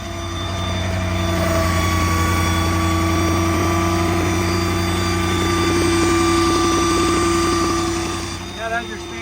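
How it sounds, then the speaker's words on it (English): A 2012 Ford F-550 4x4 IMT 7500 service truck idles with its PTO engaged, giving a continuous loud mechanical whine and rattle over a steady engine drone, close up and unbroken for several seconds. "that's your standard Ford PTO rattle. They all do it."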